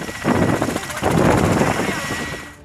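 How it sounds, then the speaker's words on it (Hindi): Military helicopters flying over the US-Mexico border, a steady loud rotor and engine roar with wind buffeting that swells and holds throughout, no pauses. "अजीब से दिखने वाले ये हेलीकॉप्टर्स अमेरिका और मेक्सिको बॉर्डर पर पहुंचे हैं।"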